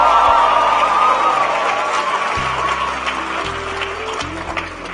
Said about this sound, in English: Please give Emmanuel a big round of applause.